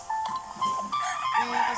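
Chickens on a farm behind a house, clucking and calling faintly in short broken notes under a person talking nearby.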